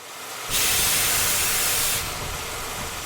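Steam locomotive hissing loudly and steadily as it starts, a close broadband rush that swells for about a second and a half, then settles to a continuous lower hiss.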